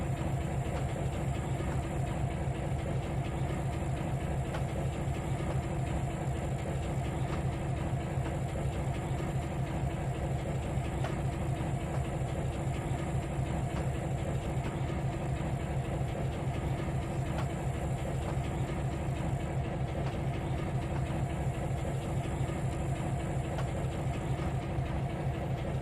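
A train creeps along at about six miles an hour in the Trainz 2019 railway simulator, a steady low engine drone with a faint rhythmic clacking, unchanging and continuous for the whole stretch, with no talk.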